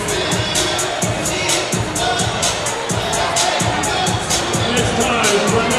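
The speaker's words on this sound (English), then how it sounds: "Packed crowd here at the Foundry on St. Patty's Day weekend." A packed indoor arena football crowd at the Foundry on St. Patrick's Day weekend roars and cheers continuously, with rhythmic claps or stomps and shouting voices mixed through the loud din.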